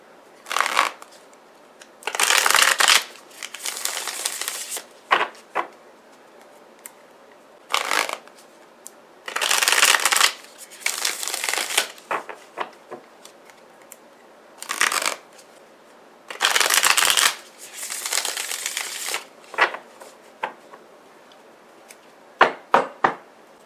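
Tarot cards being shuffled in repeated bursts of riffling and sliding, loud and close with short pauses between bursts; no talking.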